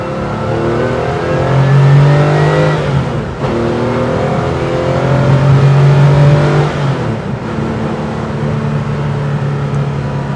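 A 1992 Porsche 911 964 RS N/GT Clubsport flat-six engine pulls hard through the gears from inside the cabin, loud and steady, rising in pitch with a brief dip at each upshift and no talking over it.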